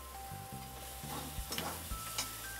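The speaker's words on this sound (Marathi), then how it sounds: "आता हे सगळं मिक्स करून घेते।" A spoon stirs a dry bhaji of dried fish and potato in a pan, giving soft scraping strokes and a few light knocks against the metal under a low, faint sizzle.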